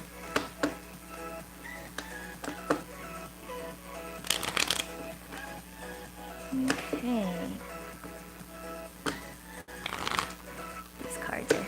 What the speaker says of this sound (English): These cards are shuffling weird today.